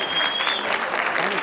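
Loud, sustained audience applause fills the hall, dense clapping from many hands continuing steadily throughout without pause.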